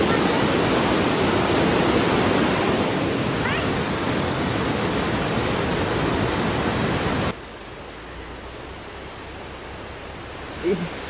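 A river flows on Mount Kinabalu as a steady, broad rush of water, loud and continuous, dropping slightly in level partway through, with no speech.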